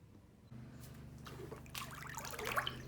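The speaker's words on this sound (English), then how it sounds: "So I'm just mixing the water so the pulp and the water don't stay separated." Water and soaked paper pulp are stirred together for hand papermaking, giving soft, close trickling and sloshing sounds that grow busier toward the end over a low steady hum.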